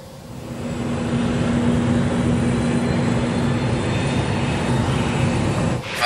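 A Concorde supersonic airliner taxis on the ground, its jet engines producing a loud, steady, rumbling roar with a droning tone that holds constant throughout.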